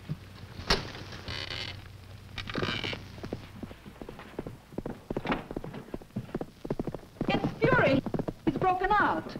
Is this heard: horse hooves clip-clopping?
yes